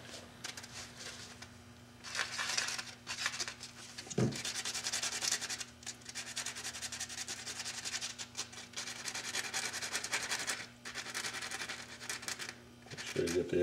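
Sandpaper rubs steadily over a hand-carved wooden horse during final finishing, in a continuous close scratching with short pauses, while a low steady hum sits underneath.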